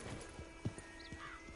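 Horse hooves clip-clop at a slow walking pace in a video game, a few soft, evenly spaced steps close by over faint background ambience.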